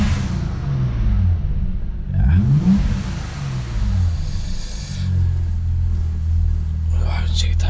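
An Audi RS4 Avant's warmed-up engine idling and blipped in a couple of rising revs, a close rumbling drone with people talking quietly over it.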